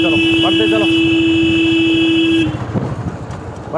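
A loud, sustained car horn blares for over two seconds over crowd chatter and engine rumble in the village of Madhauli Bagh, then cuts off, leaving busy street noise and voices.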